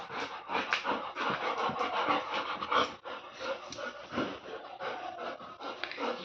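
A Golden Retriever pants close by in quick, steady breaths with a few snorts mixed in. The breathing fills the whole stretch with no talk over it.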